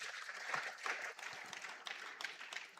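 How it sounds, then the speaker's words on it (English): An audience applauds at the closing ceremony of a national principals' conference, a dense, steady patter of many hands clapping that sounds somewhat distant and soft, with no one talking over it. "Clap for them as they take their seats."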